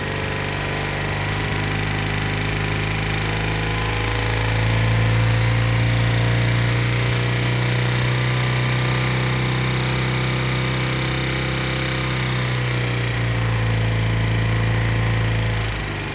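A BMW motorcycle engine with carburetors being synced is brought up to about 4,000 RPM, a loud, close, steady mechanical drone that rises in pitch and holds before easing slightly, with no talking.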